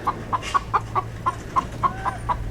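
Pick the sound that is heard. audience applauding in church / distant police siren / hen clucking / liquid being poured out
hen clucking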